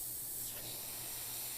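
Paint spraying from a sprayer used for freehand work: a steady, unbroken hiss that holds at an even, moderate level from start to finish, with no voices.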